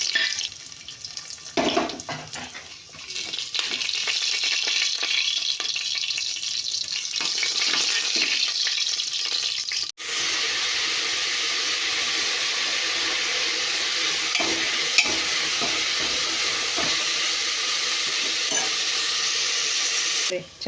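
Whole spices such as cinnamon, cumin, pepper and cardamom fry in ghee for prawn biryani, giving a loud, continuous sizzle with stirring scrapes, which grows brighter and denser halfway through.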